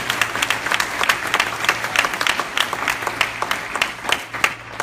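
Audience applause from a crowd of believers at a morning religious gathering, a steady wash of many hands clapping close and loud, with a low hum underneath and no talking.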